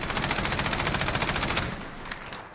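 CTAR-21 SBR carbine firing a rapid automatic burst in Call of Duty Modern Warfare, dense steady shots for about a second and a half, then a short tail of fading echo and a final few cracks.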